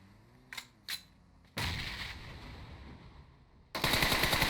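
Gunfire in the mobile battle-royale game PUBG Mobile: two quick isolated shots, then a long dense burst of automatic fire and a louder rapid volley at the end, no talking.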